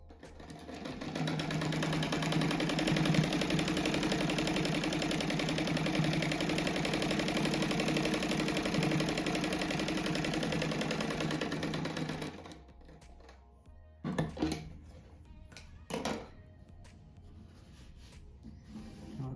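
A sewing machine stitches a rug seam in a steady, rapid mechanical whir for about twelve seconds, then stops and gives a few short bursts of stitching with pauses between.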